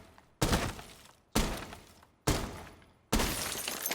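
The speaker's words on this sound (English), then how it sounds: "Did you hear the glass break?" Window glass shattering in Rainbow Six Siege, four separate sharp crashes about a second apart, each a loud burst of breaking glass that trails off, heard alone without talk.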